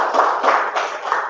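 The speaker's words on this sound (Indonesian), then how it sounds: "tepuk tangan untuk kelompok 2." Students in a classroom clap for a presenting group during a teaching-practice lesson. Brief, close, rhythmic clapping with a few loud, muffled claps in quick succession.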